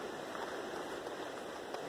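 Smith River rushing past the falls campground, a steady, even wash of flowing water heard close up with no voices over it.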